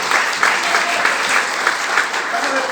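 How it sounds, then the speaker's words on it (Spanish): A church congregation applauding, a loud continuous patter of many hands clapping with rhythmic surges, filling the whole moment. "Den una alabanza de aplauso al Señor en esta hora."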